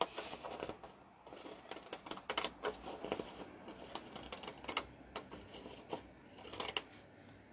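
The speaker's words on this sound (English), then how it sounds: "gonna use my scrapbooking paper scissors here." Quick, crisp snips of scrapbooking paper scissors cutting paper, coming in short irregular bursts at close range, with a faint rustle of paper between cuts.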